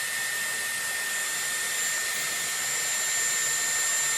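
A Dyson Airwrap hair styler runs on high speed at medium heat while used for a round-brush blow-dry. It gives a loud, steady, close rush of air with a thin high whine and no talking.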